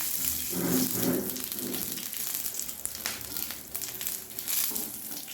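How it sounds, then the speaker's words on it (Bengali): Slit green chillies and black cumin seeds fry in a little hot oil, a soft, steady crackling sizzle with occasional louder pops, close but fairly quiet, no voices. "দুটো চেরা কাঁচা লঙ্কা দিয়ে দিলাম, কালো জিরে ফোড়ন দিয়ে দিলাম। এবার ফোড়নটা ভেজে নিব।"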